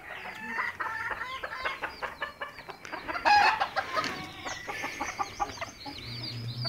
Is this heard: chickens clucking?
yes